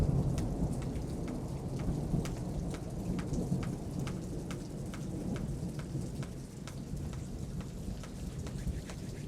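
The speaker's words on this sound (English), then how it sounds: "Had to let that thunder pass." Thunder rolling through a steady rainstorm, a deep, sustained rumble beneath continuous rain hiss, with a regular ticking of raindrops on a surface close by across the whole stretch.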